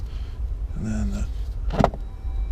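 Rear seats of a 2017 Chrysler Pacifica Plug-in Hybrid Platinum folding flat into the floor: a short mechanical whir and creak, then a sharp close thud, with no talking.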